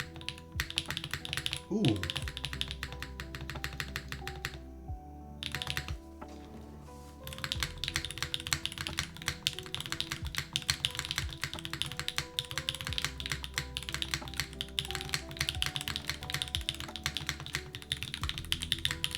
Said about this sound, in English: this is definitely a keyboard that sounds better without a desk pad